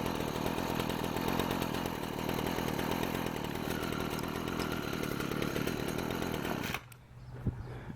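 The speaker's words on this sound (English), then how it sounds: "you should be able to punch that trigger and it almost instantly sends the RPMs up" A weed wacker's small two-stroke engine screams at high revs for nearly seven seconds during carburetor tuning, then the trigger drops and it falls abruptly to a quieter, lumpy idle.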